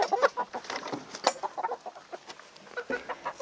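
Hens clucking close by at a henhouse of young hens about five months old, a steady run of short clucks and squawks with no talk.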